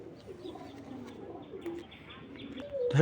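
Genda pigeons, a spring-necked pair, give soft low cooing murmurs close by just after being let loose, with a faint chirp and a brief flutter near the end.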